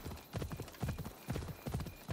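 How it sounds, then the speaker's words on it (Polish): Horse hooves clip-clop in a steady, even gait as a mount trots along in Assassin's Creed, the rhythmic footfalls close and clear with no voices over them. "Mój wierzchowiec."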